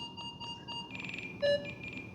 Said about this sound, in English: it's basically gonna beep every time I move a little bit